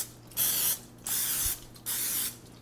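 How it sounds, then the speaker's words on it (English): Cooking spray hisses from an aerosol can onto a popover pan in three short bursts, each about half a second long, close and clear with brief pauses between. "I'm going to spray a popover pan."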